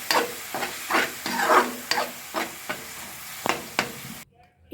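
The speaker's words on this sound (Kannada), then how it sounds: "ಇಷ್ಟನ್ನು ಹಾಕಿ ಲೋನ ಮೀಡಿಯಂ ಫ್ಲೇಮ್ ಮಾಡಿಕೊಂಡು ಇದನ್ನು ಚೆನ್ನಾಗಿ ಹುರಿಯಿರಿ" Masala with curd frying and being stirred in a pan for egg curry, a steady loud sizzle broken by repeated scraping strokes of a spoon, with the sizzle ending abruptly near the finish.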